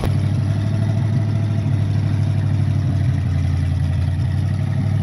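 A truck engine idles steadily nearby with a low, even rumble and faint clatter, running alone without talk throughout.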